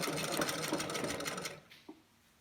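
Sewing machine stitching a hidden bias strip onto a collar about two millimetres from the edge, a steady close-up mechanical whir for about a second and a half that stops abruptly, followed by a single faint clack.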